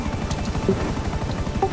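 Continuous rapid thudding of helicopter rotor blades in GTA Online, loud and close, with a steady engine whine above it.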